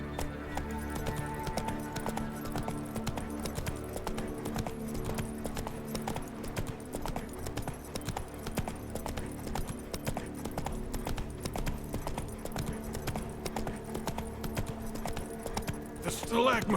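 Roach, the horse in The Witcher 3, gallops with steady repeated hoof clip-clops beneath game music and a voice, continuous and fairly close throughout.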